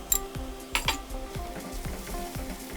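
Spices hit hot oil in a pan for a fenugreek chicken curry, giving a steady sizzle with a few sharp metallic clinks and scrapes of a utensil against the pan, heard close up with no talking.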